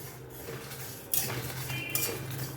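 Pickle spices and dried red chillies are dry-roasted in a hot kadai, with a soft steady scraping and stirring and two sharper metallic clinks of the spatula against the pan, close up, with no voices.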